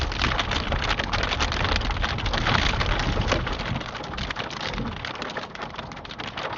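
Hail hitting a car during a driving lesson in an automatic car, a dense, continuous drumming and pattering across the body and roof, steady and loud for several seconds with no voices.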